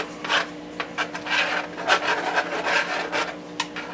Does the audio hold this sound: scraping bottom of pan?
yes